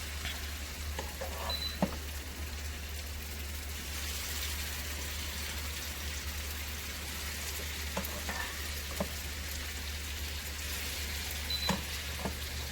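Steamed fish cooking in a Nigerian stew in a pot, a continuous close bubbling sizzle with a steady low hum beneath and occasional soft taps, no voices.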